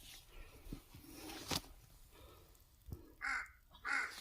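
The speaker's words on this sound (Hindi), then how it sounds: "ये देखिए कौवा बैठ गया है वहाँ पर" A crow calls twice at the Thal Kedar temple, with short harsh caws coming toward the end against a quiet outdoor background. Faint rustling and a couple of soft knocks come before them.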